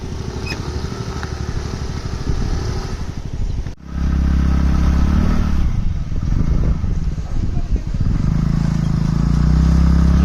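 Scooter engine droning steadily while climbing a rough, rocky mountain road toward Dhoodhpathri, with rattling clatter over the terrain; a brief dip partway through, then the loud, continuous engine noise resumes close by.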